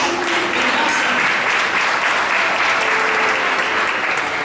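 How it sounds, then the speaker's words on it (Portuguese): A church congregation claps in steady, dense applause through a Portuguese-language service, loud and continuous from start to finish. "Você pode aplaudir o Senhor também"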